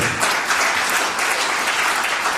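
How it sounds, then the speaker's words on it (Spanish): Steady, dense applause from a church congregation at an evangelical service, many hands clapping together at an even, sustained level throughout with no break and no voices rising above it. "Denle un aplauso a Él porque Él vive para siempre"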